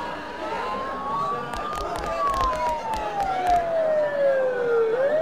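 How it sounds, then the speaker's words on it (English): Sirens in the video game Persona 4 wail close by, a loud, steady tone sliding slowly up and then down over a background rumble, with voices speaking over it. "Don't those sirens sound really close?"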